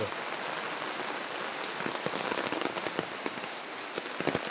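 Steady, dense heavy rain pattering hard on a surface nearby during flooding, with individual drops clicking sharply through the constant wash of noise.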